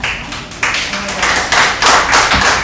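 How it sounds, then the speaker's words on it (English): A small audience at a public information meeting claps in loose bursts, several close, sharp rounds of hand claps rising and falling over a few seconds. "claps are eating into his time"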